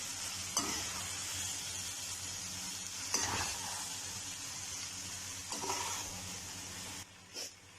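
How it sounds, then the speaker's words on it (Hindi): Mixed vegetables cook with spices in a pan, giving a steady, close sizzle with a few scraping stirs and one short knock near the end. "यहाँ तकरीबन 10 मिनट के लिए हम जो है वो इसे मसाले के साथ पकाएंगे"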